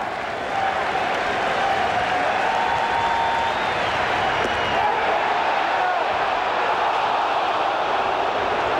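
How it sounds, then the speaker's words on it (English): A baseball crowd at Wrigley Field during a Yankees–Cubs game, a dense, steady, fairly loud roar of cheering and murmur held throughout, with no clear voices above it. "So this crowd, after that scare with Hee-Seop Choi, trying to work its way back into the action."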